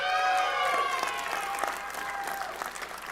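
An audience at a game keynote applauds and cheers, a dense wash of clapping that slowly tapers off.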